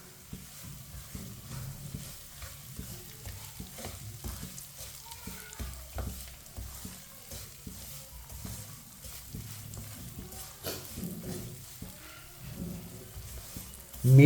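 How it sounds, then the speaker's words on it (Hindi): Semolina frying in lightly heated oil for halwa, a soft sustained sizzle with repeated scraping and stirring of a spoon against the pan, fairly quiet and close, with no talking. "सूजी को ऑयल में मिला लेंगे"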